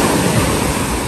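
Surf rolls onto a sandy beach at Lazarevskoye on the Black Sea, a loud, continuous rush of breaking water with no voices.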